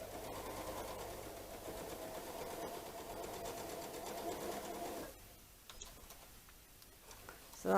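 A sewing machine runs steadily, seams up, joining quilt block pieces for a chain link block, then stops, leaving a quiet room with a few light clicks.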